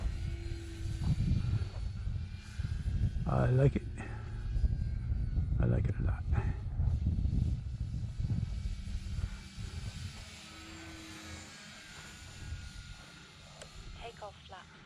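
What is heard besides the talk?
Air Tractor crop-duster airplane engine in flight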